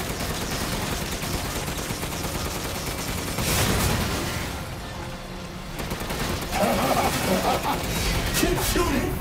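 Dense, continuous automatic gunfire in the Resident Evil Village finale on PS5, loud bursts running through the whole stretch with a brief lull in the middle, crashes and game effects layered on top.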